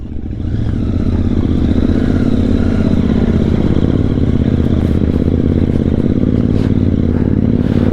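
A Royal Enfield motorcycle, an Interceptor 650, rides off-road on rough terrain. A steady, loud engine drone continues throughout, with the rumble of the motor layered over clattering and scraping from the bumpy ground.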